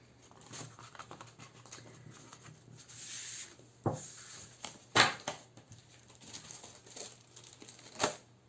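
Paper for scrapbooking being handled and sorted at a table, with soft crinkling and rubbing and several sharper rustles and snaps, close and fairly quiet, without speech.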